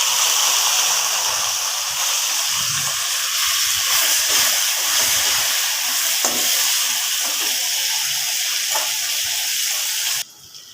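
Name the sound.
potato pieces with turmeric and salt frying in oil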